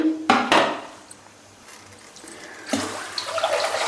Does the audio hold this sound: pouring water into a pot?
yes